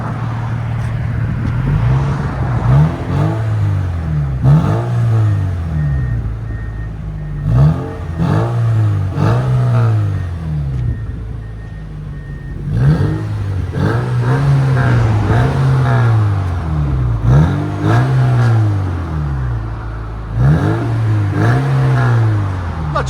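A 1997 VW Golf GTI 16V with its muffler deleted revs repeatedly, the raspy exhaust climbing and falling in a series of sharp blips over a steady idle, close and loud throughout.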